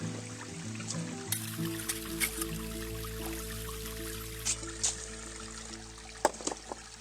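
Water trickles and spills over a small built-up dam on a stream beside an off-grid cabin with a water wheel, a steady close babble with a few brighter splashes, under a faint sustained tonal hum.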